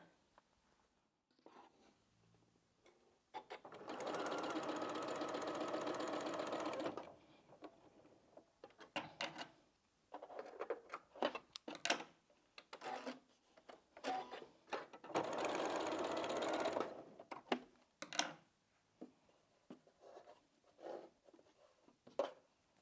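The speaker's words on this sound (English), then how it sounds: "So let's sew those on first" A sewing machine stitches fabric scraps for a quilt in two sustained, fairly loud runs separated by quieter handling noises and brief pauses.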